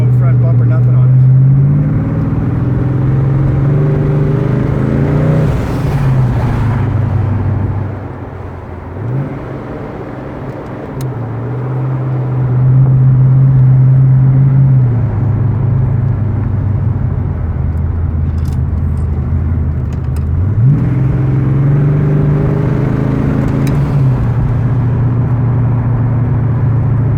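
A twin-turbo GT35 Foxbody car engine on its first drive, loud and close from inside, with repeated rising acceleration pulls, gear changes and a quieter coasting dip in between.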